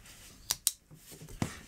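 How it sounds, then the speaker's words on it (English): A pair of sharp scissors from an everyday-carry set snips through paracord: two quick crisp clicks close together, then a heavier cut a moment later, close and clear in a quiet room. "Let's quickly see the scissors in action with the standardized paracord test"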